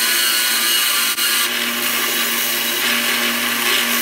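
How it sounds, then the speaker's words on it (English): Knife handle scales being ground into a curve for a bushcraft knife made from a saw blade, with a grinder's continuous, loud, even whir that barely wavers. "I thought grinding in a nice curve would make it look better."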